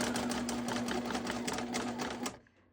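A sewing machine stitches fabric in a fast, steady mechanical whir and rattle, close and loud, running alone for about two seconds before stopping abruptly.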